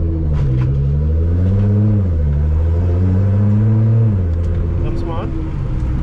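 A Nissan R35 GT-R engine revs and pulls under light throttle while driving, a deep, loud rumble that rises and dips in pitch, with people talking over it throughout.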